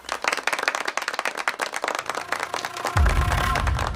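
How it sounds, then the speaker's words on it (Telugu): A group of people clap their hands in a fast, dense burst of applause, loud and close, ending in a louder rumble of noise. "చప్పట్లు కొట్టండి రా"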